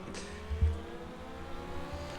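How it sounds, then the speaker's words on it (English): Legends race cars roar down the straight of the Bovingdon oval track during a heat, a steady, loud engine drone with one brief surge partway through and no voices. "You can see the howl of the engines as they come firing down the straights."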